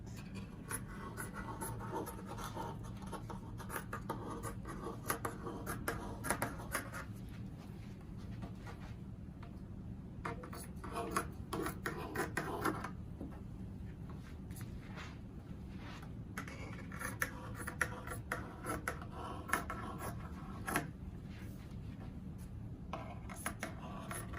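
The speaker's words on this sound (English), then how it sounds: "Now I'm gonna go cut excessive part of the t-shirt to make easier when we cut our template." Scissors cut away the excess fabric of a cotton t-shirt for a no-sew face mask, making a continuous close rasp of blades and cloth with short snips scattered throughout, and no voices.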